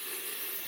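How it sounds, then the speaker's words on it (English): A handheld steam wand blows out a constant, quiet hiss of steam, a steady airy rush with no voices. "That's pumping out a fair bit of steam."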